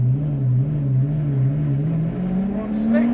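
An Aston Martin Zagato race car on a damp durability circuit with slick tyres pulls hard, its loud engine note climbing steadily in pitch as it accelerates, close and continuous.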